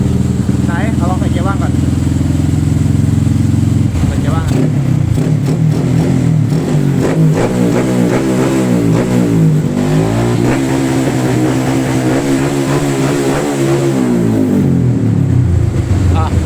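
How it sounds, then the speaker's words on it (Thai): Carbureted Yamaha Spark 135 motorcycle engine with a tuned ignition box and exhaust, idling close by and then revved repeatedly in rising and falling sweeps, with someone talking over it. "ลองช่วงหัวคันเร่งสำหรับรถคาบู"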